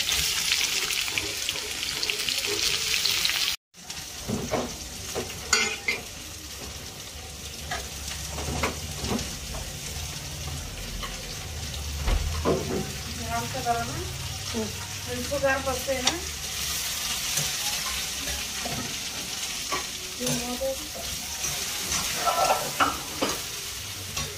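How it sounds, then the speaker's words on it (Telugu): Mango dal tempering sizzles and crackles steadily in hot oil, with occasional stirring scrapes and a brief running-tap splash, continuing without pause for the whole stretch. "మామిడికాయ పప్పుకి తాలింపు పెట్టేస్తున్నాను."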